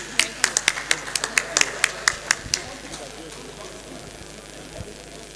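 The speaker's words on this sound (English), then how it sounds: "Please help us to clap for him." Sparse, sharp handclaps ring out at a political colloquium in Ondo, a dozen or so distinct claps in an uneven rhythm over the first few seconds, then dying away into quiet room tone.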